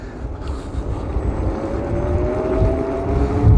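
Electric mini bike conversion pulling away under light throttle, a rising motor whine climbing steadily in pitch over rumbling road and wind noise, growing louder toward the end.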